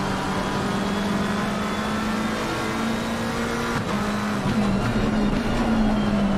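Onboard engine note of a McLaren race car in a racing video game, a loud sustained drone holding a steady pitch with a brief lift and dip near the end, heard alone with no talk.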